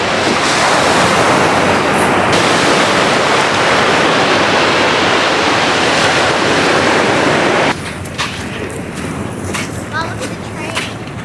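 Loud, continuous roar of ocean surf breaking on a beach, heavy with wind buffeting, dropping to a quieter wash after a few seconds.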